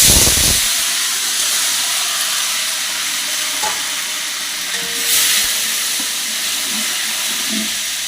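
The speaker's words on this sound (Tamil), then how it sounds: "வெங்காயம் போட்டு நல்லா ஃப்ரை பண்ணிக்கலாம்" Onions frying in hot oil for a large four-kilogram batch of tomato rice temple offering, a steady broadband sizzle and hiss with occasional stirring scrapes, close and continuous with no talk.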